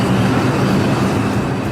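New York City subway train rumbling steadily along the tracks, a loud close rolling roar with a faint rhythmic rattle of the cars.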